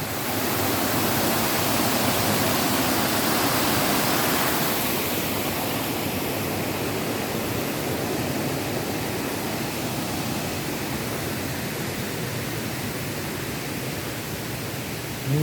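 Continuous rushing roar of a waterfall in deep forest, loud and unbroken, easing slightly after the first few seconds but holding steady to the end.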